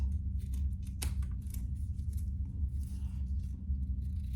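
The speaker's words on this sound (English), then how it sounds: "let's cut off that excess" Scissors snip through excess fabric on a crossbody bag in a few quick, soft cuts over a steady low background rumble.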